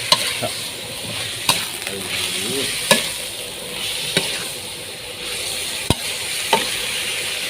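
Frogs sizzle steadily in a hot pan while a utensil scrapes and knocks against it every second or so.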